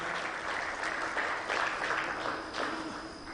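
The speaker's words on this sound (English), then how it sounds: "Can we give another round of applause for the work well done?" Conference audience at an investment forum in Tanzania gives a round of applause, a steady, moderately distant wash of many hands clapping with slight swells, lasting a few seconds.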